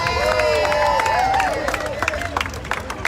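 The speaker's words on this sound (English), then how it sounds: "Please give him another round of applause." A crowd at a Juneteenth rally applauds and cheers, dense clapping blended with voices and babble, tapering into scattered claps toward the end.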